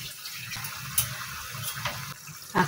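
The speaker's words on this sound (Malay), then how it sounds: "Tambah air sedikit lagi untuk kuah ya." Water poured from a tap into a simmering prawn curry to make the broth, a soft splashing trickle with a few sharper bursts over low kitchen background noise.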